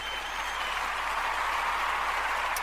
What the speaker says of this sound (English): Let me give you a quick round of applause.